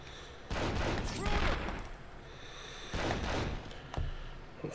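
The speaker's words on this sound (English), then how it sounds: "These guys in the back here too are shooting me." Enemy gunfire in 24: The Game on PlayStation 2, sustained bursts of rapid shots coming in several loud waves with short lulls between them, with a sharp single crack near the end.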